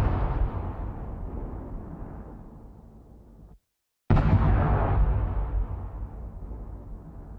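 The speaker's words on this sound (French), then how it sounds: "dès qu'on rajoute un petit peu de réverb, direct notre explosion est encore plus." A designed explosion sound effect with added reverb plays twice, each a deep booming blast that decays in a long reverberant tail, separated by a brief moment of total silence.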